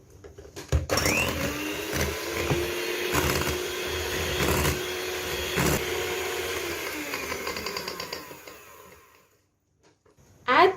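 Electric mixer whirring steadily as oil is blended into walnut sponge cake batter, a sustained motor drone with bumps and clatter for about eight seconds, then a pause and a brief loud knock at the end.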